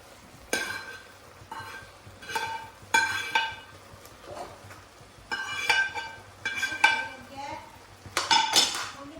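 Masala being stirred in a metal cooking pot, a run of repeated scraping and clinking strokes of a spoon against the pan in uneven bursts, close and fairly loud over a gentle sizzle.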